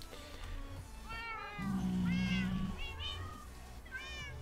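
Minecraft cat meowing in game, a string of several drawn-out meows, with one longer, louder cry in the middle, over a low steady background hum.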